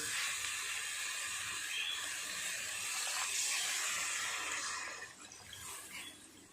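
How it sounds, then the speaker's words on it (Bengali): Water is poured into a pan of potato and pointed gourd cooked down with spices, giving a broad, steady hissing rush that lasts most of the time and then eases off near the end. "এবার জল দিয়ে দেব"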